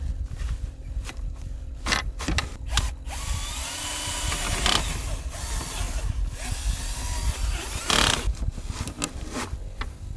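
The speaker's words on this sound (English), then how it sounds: "Actually need to drill a hole here." A power drill bores a hole at an off-grid cabin in Svalbard, with short whirring bursts and clunks of handling in between, close and fairly loud.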